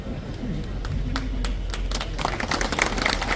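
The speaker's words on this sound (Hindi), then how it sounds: "ताली बजा रहे हो" An audience claps in a burst of scattered, fairly close handclaps that builds into denser applause over a few seconds.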